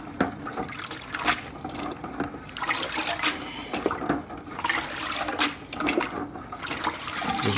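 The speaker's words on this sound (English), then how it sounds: "which I'm going to rinse off in tank water" Water sloshes and splashes in bursts as aquarium canister filter media is swished around and rinsed in tank water, with trickling and dripping between the louder pours.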